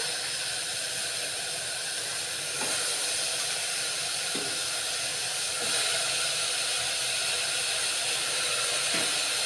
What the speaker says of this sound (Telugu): ఉల్లిపాయలు వేగిపోయి నెక్స్ట్ మనం తరిగి పెట్టుకొని ఉంచుకున్నాం కదా వంకాయ ముక్కల్ని ఇందులో వేసేసుకోవాలి